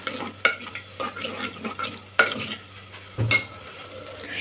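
A spoon stirs tamarind water into a simmering fish curry in a pan, giving several scraping, sloshing strokes at an uneven rhythm over a steady low sizzle, close and fairly clear with no talk.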